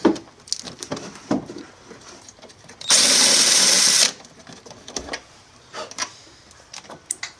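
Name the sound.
power tool undoing bolts on a Vectrix motorcycle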